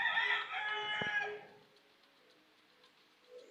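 A rooster crows once, loud and close, in the Roblox game Theme Park Tycoon 2; the call fades after about a second and a half into quiet background.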